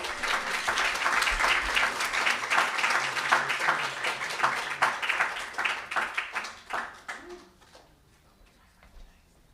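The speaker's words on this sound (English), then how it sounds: "Just give me one more round of applause." Audience at a corporate awards ceremony applauding in sustained, dense clapping that gradually thins out and fades to near silence by the end.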